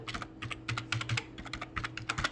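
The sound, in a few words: typing on a computer keyboard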